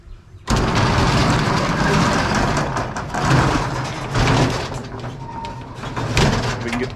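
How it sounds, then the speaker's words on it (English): A storage unit's roll-up door is heaved open with a sudden loud metallic rattle that rumbles on for several seconds, close up, with people talking over it. "We're about to open this door."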